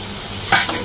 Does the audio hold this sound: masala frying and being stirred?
yes